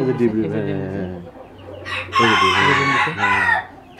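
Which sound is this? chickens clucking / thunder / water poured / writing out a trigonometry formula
chickens clucking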